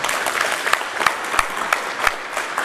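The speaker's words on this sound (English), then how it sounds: "Clap it up for me." Audience applause at a motivational talk by a coach: close, lively clapping with distinct sharp claps standing out over the steady patter.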